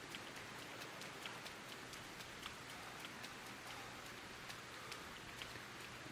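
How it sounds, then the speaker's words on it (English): Steady, soft rainfall in the feudal Japanese survival game Sengoku Dynasty, an even hiss of drops with occasional patters, faint and continuous with no talk. "It's raining."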